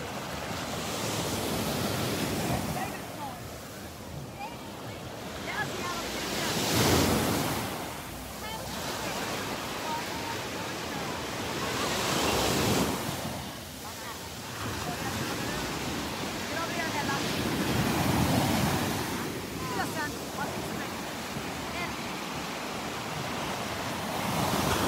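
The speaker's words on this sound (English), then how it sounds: "Listen to those waves." Ocean surf rolls onto a beach in North Naples, Florida, in repeated swelling waves that crash and hiss every few seconds over a constant roar, with wind buffeting the microphone.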